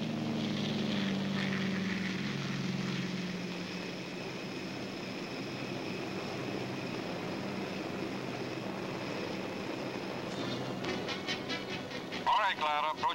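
A WWII aircraft tows CG-4A gliders at night in a 1944 Normandy airborne-invasion documentary, with a steady propeller-engine drone under narration and a brief radio-like burst near the end.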